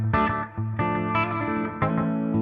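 Electric guitar played through delay and modulation effects, three or four bold distorted chords struck in a steady rhythm, each ringing with a shimmering, echoing sustain, loud and close with no voices.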